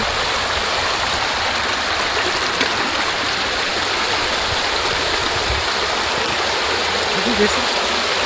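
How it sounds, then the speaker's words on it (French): Water pours steadily down a small cascade in an outdoor sculpture in Dole, giving a continuous, dense rushing wash, close and fairly loud, with voices faintly mixed in. "Et là-bas, ça fait une petite cascade, là."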